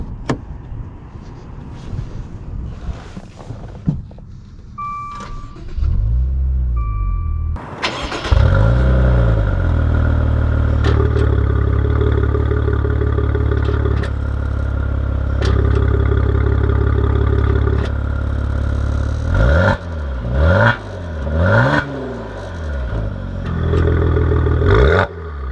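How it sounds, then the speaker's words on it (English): A Maserati Ghibli luxury sedan is started and driven off: clicks and a chime, then the engine fires with a loud rev and settles into a steady idle, followed by rising and falling revs as it pulls away close by. "let's take this Ghibli out and see how she drives"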